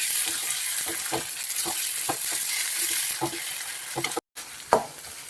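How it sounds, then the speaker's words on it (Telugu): Onions and ginger paste sizzle steadily in a pan for an egg masala curry, with a spatula scraping and stirring at a loose, irregular rhythm, a brief dropout near the end followed by a sharper clatter. "దీంట్లోకి మనము అల్లం పేస్ట్ వేసుకుందాం దీనికి బాగా వేయించుకోవాలి"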